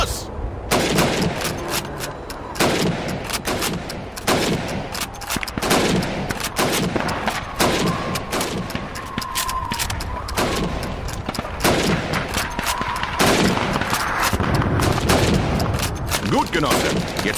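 Rifle shots ring out repeatedly at helmet targets during Red Army training in Call of Duty 2, sharp cracks at an irregular quick pace over a busy background, with someone speaking German at times.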